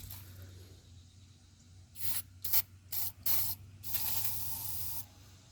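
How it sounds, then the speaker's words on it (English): Brake cleaner hisses from an aerosol can onto Ford Ranger 2.5L engine parts in several short, loud bursts, followed by one longer continuous spray. "let's go ahead and spray brake cleaner"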